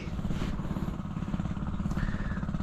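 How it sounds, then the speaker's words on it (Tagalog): An engine runs close by with a steady, slightly clattering idle and a rhythmic low pulsing throb that continues throughout, with no voices. "Ayun yung makina natin."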